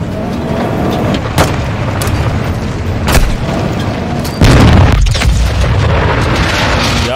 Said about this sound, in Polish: Chcemy rozwalić czołg ładunkami wybuchowymi.